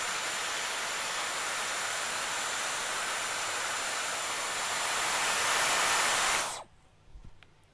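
Dyson Airwrap hair styler blowing air while curling hair, a loud steady airflow hiss close by that lasts about six seconds and then cuts off, followed by faint handling noises.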